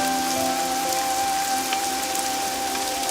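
Rain falls steadily on soil and leaves, a close, even hiss of drops with faint tonal hum beneath and no voices.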